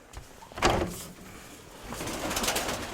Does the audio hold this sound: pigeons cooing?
yes